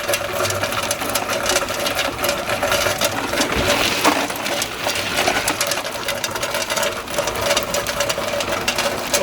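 A 3-ton tube ice machine runs steadily, giving a continuous loud mechanical hum and rattle with faint clinking and hiss layered above it, and no one speaks.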